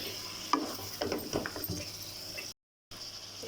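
Beef frying with onions in a karahi gives off a soft, quiet sizzle broken by a few clattering stirring scrapes, then a brief moment of silence.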